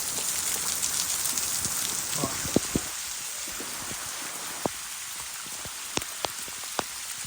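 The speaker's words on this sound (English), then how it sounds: "hopefully the rain stops" Steady rain falls outdoors at a rural homestead in Portugal, a constant hiss with scattered sharp drips tapping nearby surfaces.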